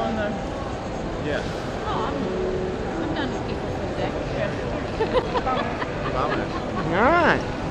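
Ambience inside the Gare de Lyon train station in Paris: a steady, busy hubbub of distant crowd chatter and echoing hall noise, with a brief rising squeal near the end.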